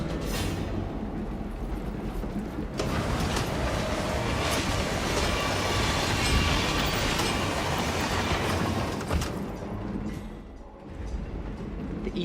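A train rolls along in Hitman 3 with a continuous heavy rumble and rattling wheel noise, swelling louder in the middle and easing toward the end, no talking over it.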